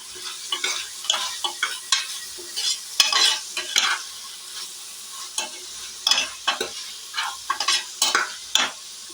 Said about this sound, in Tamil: தக்காளி வதங்கிறதுக்காக கொஞ்சமாக உப்பு ஆட் பண்ணியாச்சு அதை நல்லா மிக்ஸ் பண்ணிக்கலாம்